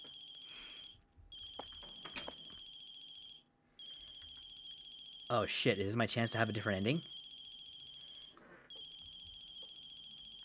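In the horror game The Closing Shift, a coffee shop telephone rings insistently with a steady electronic trill that runs on and off, while a player talks and exclaims over it.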